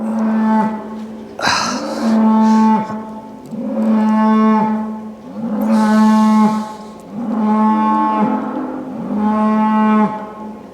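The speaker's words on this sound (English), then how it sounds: "I apologize for any mooing that happens in the background here. I'm by the feedlot" Cattle at a feedlot moo repeatedly, a series of loud, drawn-out bellowing calls close by, one after another with short pauses between them and no talking.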